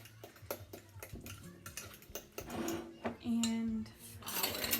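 A utensil stirs almond flavoring into sugar cookie dough with sugar and eggs in a bowl, making repeated close scraping taps and clinks against the bowl that grow busier and louder toward the end.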